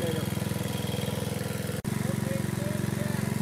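Woodgas-fueled engine running with no load while charging through its alternator, a steady close low chug with a fast even pulse, a brief dropout midway, and a voice talking over it.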